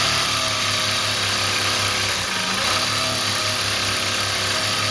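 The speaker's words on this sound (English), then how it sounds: "I'll sew all the way to the end here." A Juki professional sewing machine runs at steady speed, a loud continuous mechanical whir with an even rapid stitching drone held throughout, no voices over it.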